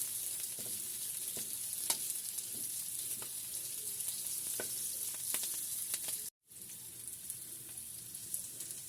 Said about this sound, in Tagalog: Same pan, igigisa natin yung bawang at sibuyas.